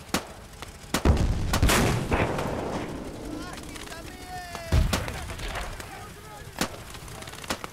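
Mortar and artillery fire in the WWII strategy game Gates of Hell, with several heavy booming blasts and sharp gunshot cracks over rumbling battle noise, some distant, under scattered voices.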